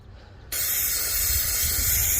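Carburetor cleaner sprays from an aerosol can onto the carburetor of a Farmall A tractor, a sudden close steady hiss that starts after a quiet half second and continues without a break.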